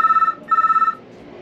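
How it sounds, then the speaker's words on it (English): An old K2 telephone box phone ringing nearby, two loud bursts of rapid electric bell trills separated by a short gap, then quiet. "let's see if the phone actually works if I phone it"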